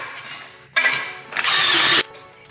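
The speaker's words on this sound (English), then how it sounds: "I'm gonna have to drill it out to this size" A power drill whirs in two short bursts, the second longer and louder, close by with no talking, while a hole is drilled out larger during a BMW E36 M3 turbo engine build.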